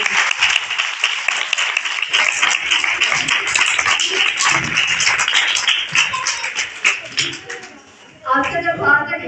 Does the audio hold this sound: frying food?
no